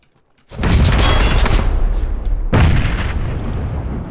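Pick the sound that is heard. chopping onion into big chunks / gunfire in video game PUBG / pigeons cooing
gunfire in video game PUBG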